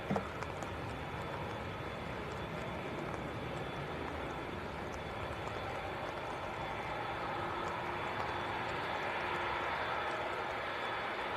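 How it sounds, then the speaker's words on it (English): An Emirates airliner at Manchester Airport in windy weather makes a faint, distant, steady roar that swells slightly toward the end. "Here we go then, Emirates to Dubai in the destination Dubai livery."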